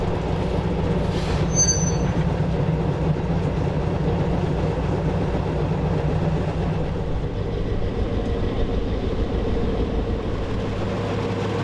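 A heritage railway locomotive hauling a tanker wagon and a dogfish hopper wagon rolls steadily along the track, wheels rumbling and clattering continuously, with a brief high metallic squeal near the start.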